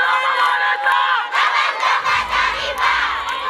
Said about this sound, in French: entonnant des chants de joie.